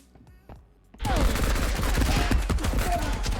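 Gunfire from a bigger gun in the video game Marauders: after a quiet start, a dense, loud burst of rapid shots erupts and keeps going, close and continuous.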